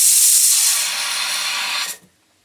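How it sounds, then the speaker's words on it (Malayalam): A pressure cooker of dal with beans and onion vents steam in a loud, sharp hiss that holds for about two seconds and then cuts off abruptly into quiet. "കുറച്ചേറെ വിസിൽ വരണം."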